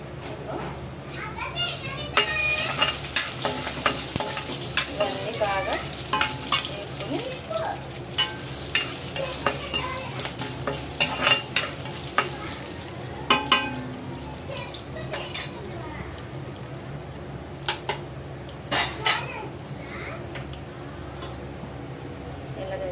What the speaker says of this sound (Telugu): నేనైతే ఇప్పుడు దీన్ని తాలింపు పెడతాను పచ్చిపులుసుని